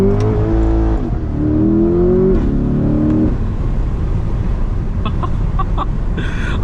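A 500 hp C8 Corvette in track mode with stability control off accelerates hard: loud, close engine revs climb in rising sweeps through gear shifts, then the roar drops to a lower, rougher rumble with scattered pops.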